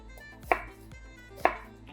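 Two sharp knife chops through an onion on a cutting board, roughly a second apart, close and distinct over a faint low background hum.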